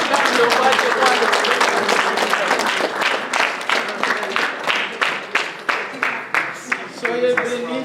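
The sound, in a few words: congregation applauding and cheering in church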